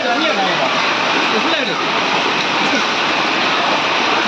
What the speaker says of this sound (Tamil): ஃபுல்லாக வீட்டுக்குள்ளே தண்ணி போயிட்டுருக்கு